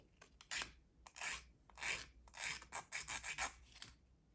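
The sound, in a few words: filing the end of a jewelry clasp with an emery board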